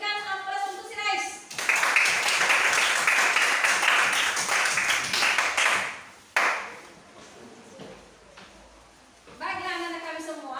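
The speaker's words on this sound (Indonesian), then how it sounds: "Berikan aplaus untuk si Rais." A classroom of children bursts into loud, sustained clapping for a student, lasting several seconds before dying away. A teacher's voice is heard before and after the applause.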